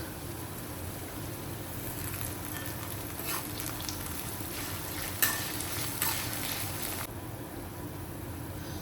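A handful of curry leaves fries in hot oil in an iron wok for chicken pickle, a constant close sizzle with stirring scrapes and a few sharper crackles partway through.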